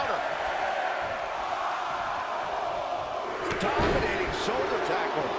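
A wrestling arena crowd in the WWE 2K22 game roars in a steady, dense wash of cheering, with a few brief sharper shouts rising near the end and no clear talk on top.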